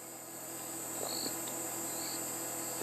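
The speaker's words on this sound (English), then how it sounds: "And there are some cicadas calling." Cicadas on a cool African savanna morning produce a faint, continuous high buzzing drone, with a few soft distant calls beneath and a brief knock at the very end.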